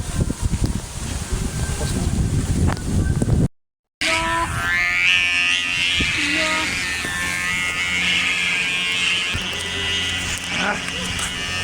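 Loud wind buffeting the microphone with a rough, continuous rumble during kite flying, broken by a brief dropout, followed by a steady whirring hum.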